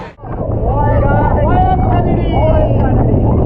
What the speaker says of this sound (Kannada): ಸಮುದ್ರಕ್ಕೆ ಕರ್ಕೊಂಡು ಹೋಗ್ತಾರೆ ಇವಾಗ ಬೋಟ್ ರೈಡ್ಗೆ